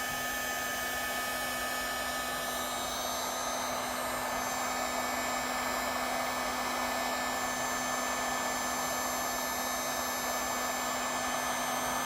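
A heat gun blows steadily and close up while softening glue on the wooden ring of an Edison Music Master phonograph horn, a constant whooshing hiss with a fixed motor hum and no pauses.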